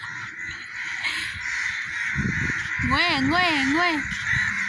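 Crows caw in a busy flock, with several harsh calls rising and falling close by over a continuous background of bird chatter, and a voice speaks briefly.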